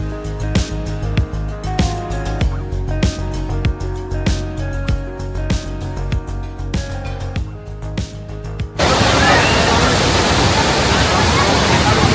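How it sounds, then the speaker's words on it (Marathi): Thoseghar waterfall in Satara during the rains, running high with water, roars as a loud, dense, steady rush that abruptly takes over in the last few seconds after a stretch of rhythmic music. "कुठला वॉटरफॉल आहे? ठोसेघर."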